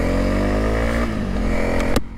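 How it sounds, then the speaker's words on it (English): 2023 Honda CRF300L off-road motorcycle engine under way, a loud, steady harmonic drone whose pitch dips as the rider eases off, then a sharp knock near the end. "So there we go, the Honda CRF300L"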